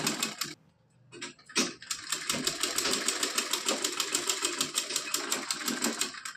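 A sewing machine stitches a cotton dress for a Laddu Gopal idol, running in rapid steady ticking bursts after a brief start-stop, close and loud with no talk.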